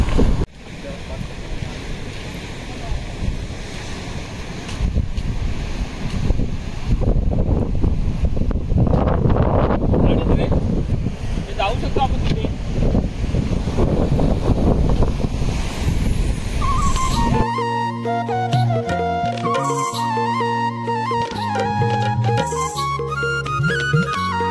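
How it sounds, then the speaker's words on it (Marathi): Strong wind and big waves crash at Kasheli beach on the Konkan coast, a loud, steady roar of surf and gusting wind buffeting the microphone, which gives way to music partway through. "वा कसला भारी वारा सुटलाय, आणि लाट बा कसला धनाक करताय तिकडे"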